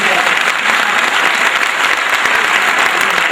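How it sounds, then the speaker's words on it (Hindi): Audience applause at a Pasmanda Muslim Samaj gathering in a hall, welcoming a guest of honour: steady, dense clapping from a sizable crowd that holds at full strength throughout, with no break or letup. "जोरदार तालियों से इस्तकबाल कीजिएगा"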